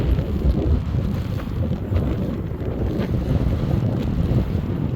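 Steady wind buffets the microphone on an open road in South Dakota, a loud, continuous low roar and rumble that barely varies throughout.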